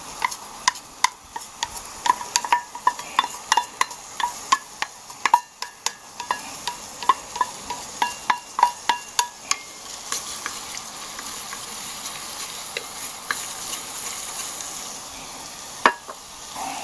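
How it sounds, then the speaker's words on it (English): Onions and garlic sizzle steadily in a hot pan while a utensil taps and scrapes against it in irregular clicks, close up and without any talking. "Onions and garlic sizzling away there."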